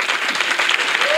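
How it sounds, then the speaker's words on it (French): Applause from a church audience at a national couples' retreat, a dense steady clatter of many hands clapping throughout, loud and close, with no talk over it. "Clap."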